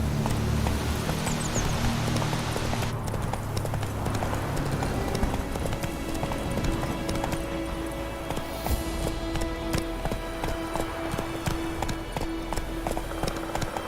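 Hooves of Roach, the horse in The Witcher 3: Wild Hunt, pound in a rapid galloping rhythm over about fourteen seconds, mixed with low game ambience and a steady hum.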